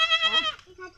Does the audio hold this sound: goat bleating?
yes